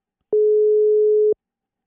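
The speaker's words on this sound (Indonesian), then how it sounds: "Gue langsung telepon orangnya." A single steady electronic phone tone sounds for about one second, clean and alone, while a call is placed.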